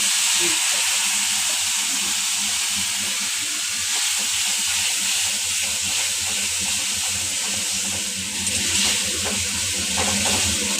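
Fried onions with chili and turmeric powder hiss and sizzle in a pan after a splash of water goes in, a steady close steaming crackle with no talking.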